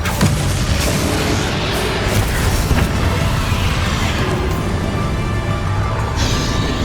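A Bombarda spell explosion in the video game Hogwarts Legacy booms loudly amid continuous dense crashing and rumbling, with a voice briefly heard over the din.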